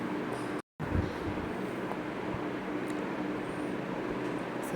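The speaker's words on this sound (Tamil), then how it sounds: "ட்ரெயின் வந்துடுச்சு போக போகிறோம்" A steady low rumble of a train arriving at a station rolls on continuously, with a broad wash of rail noise and a brief dropout near the start.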